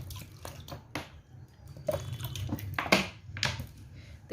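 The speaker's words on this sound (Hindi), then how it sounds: "इस कंडीशन में आपने पानी इसके अंदर ऐड कर देना है" Water poured onto freshly churned homemade butter in a bowl, a loose splashing and sloshing with a few sharper splash bursts over several seconds, moderately close, no talking.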